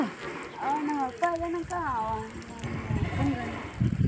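A flock of about seventy sheep and goats bleats nearby, with several wavering calls one after another over a soft background patter.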